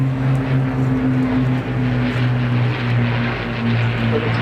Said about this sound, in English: Now flying Royal Air Force's latest tactical transport, the Airbus A400 Atlas out of Brides Norton.